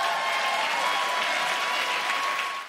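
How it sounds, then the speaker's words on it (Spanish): Dense, steady applause from a television studio audience at a Spanish-language variety show, a continuous wash of clapping that holds at full strength throughout and tapers only slightly at the very end. "Un aplauso para ella."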